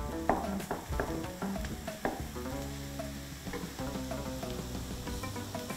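Kefta meatballs frying in a pan, a steady close sizzle with clicking stirs and scrapes of a utensil against the pan, fairly quiet and without talk.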